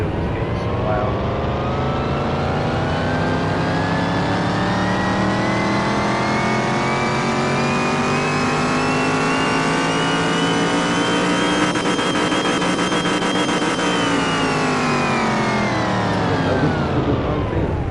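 A car engine revs steadily and loudly on a dyno in Car Mechanic Simulator 21, pitch climbing smoothly for about twelve seconds, then dropping off, a continuous synthetic-sounding drone.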